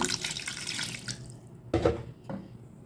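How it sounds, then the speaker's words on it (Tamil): Water pours in a soft, steady stream into tomato bajji batter, then stops, followed by two short splashes and drips in a quiet setting. "தேவையான அளவு தண்ணி ஊற்றிக்கோங்க"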